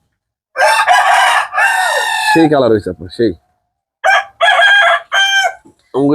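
Farm chickens, big birds of about one and a half to two kilograms, crow and cluck loudly up close in short bursts with pauses between, while a person talks alongside them.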